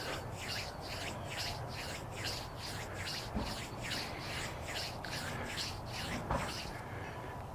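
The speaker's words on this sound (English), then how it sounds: "And I'm just rubbing back and forth the entire sole of the foot." Hands rub back and forth along the sole of a foot during an evening qigong routine, giving a steady, close, dry brushing with regular strokes roughly twice per second, with no talk over it.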